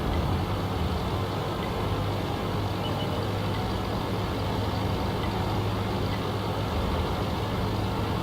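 FCM 50t tank driving in World of Tanks: a steady, dense engine and track rumble that runs evenly throughout with no breaks or talk.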